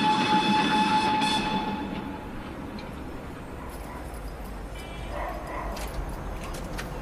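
Tren a las Nubes train running high in the Argentine mountains, a steady rumbling and clattering of rail cars with a brief tonal whine at the start and faint distant barking.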